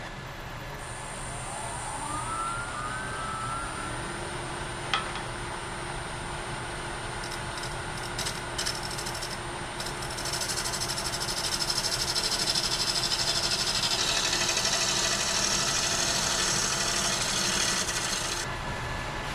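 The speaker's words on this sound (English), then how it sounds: "we will put the scraper on again, and we will scrape this back just a little bit" A steady scraping, rasping hiss of a scraper cutting against spalted sycamore spinning on a wood lathe, continuous and fairly close, with a brief higher whine partway through.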